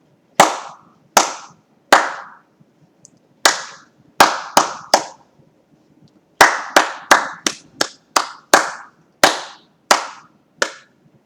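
Hands clap out a rhythm pattern in a music lesson, sharp close claps spaced unevenly, some grouped in quick pairs and runs with short pauses between, alone in a quiet room.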